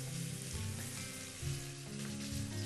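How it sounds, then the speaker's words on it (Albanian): Lentil and leek meatballs fry in hot oil, giving a soft, continuous sizzle with low bubbling pulses, fairly quiet and close, with no talk over it. "Masa është gati, i skuqim."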